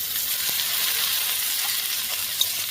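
Ginger, green chilli and chopped tomato frying in a pan as they are stirred, a steady bright hiss of sizzling oil with a few faint scrapes and one small pop near the end.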